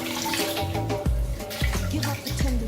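Water runs from a tap to rinse an OmniShaver electric shaver, a continuous splashing gurgle with low sloshing pulses as the shaver passes through the stream, close and moderate in level.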